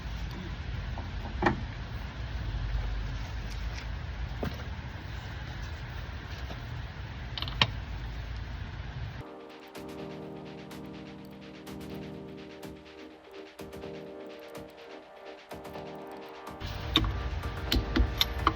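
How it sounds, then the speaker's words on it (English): A torque wrench on a 1966 Plymouth Valiant rear axle, set to 80 foot-pounds, creaks and ticks through a steady mechanical bed, with sharper clicks scattered across the stretch; no one speaks. "So I have my torque wrench here, and I'm gonna check the torque on these."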